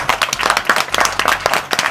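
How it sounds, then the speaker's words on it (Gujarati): An audience bursts into lively clapping during a comedy show, a close, dense patter of many hands that stays loud for the whole short stretch. "વધાવો તાળીઓ"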